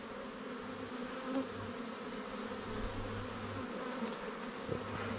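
Honeybees buzz steadily around an open hive during a spring inspection, a soft, continuous hum with a few louder passes close by and no voices.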